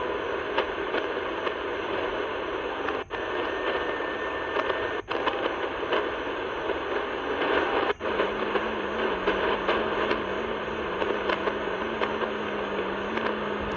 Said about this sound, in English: that almost sounds like FT8